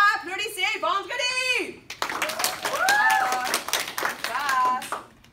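Classroom students in a French class clap hands together in short bursts, mixed with a teacher's and children's excited voices chanting.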